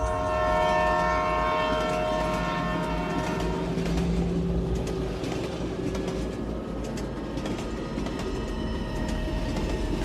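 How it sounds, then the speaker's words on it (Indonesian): A train rolls steadily along the rails with a continuous rumble and clatter, tonal horn-like drones hanging over the noise, sustained and fairly close for the whole stretch as a radio drama scene. "Kereta melaju."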